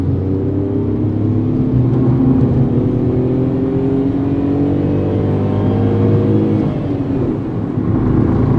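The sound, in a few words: Tata Tiago iCNG engine noise inside cabin revving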